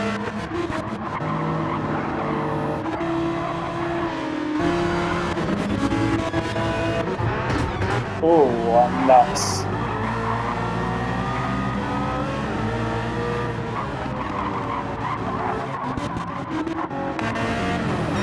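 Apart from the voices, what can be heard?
BMW GT3 race car passing in wet race, video game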